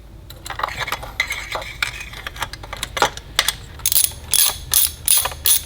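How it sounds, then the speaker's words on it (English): A cheap hand ratchet snugging spark plugs into a BMW 335i N54 engine, giving rapid runs of clicking pawl ticks that build into louder, sharper bursts toward the end, close up and with no talking. "we're just gonna do full hand tightening with an actual ratchet right here"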